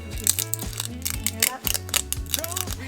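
Crisp dried leaves, pressed flat with an iron for a floral centerpiece, crackling and crinkling steadily as they are handled close by, with dense, papery snapping throughout.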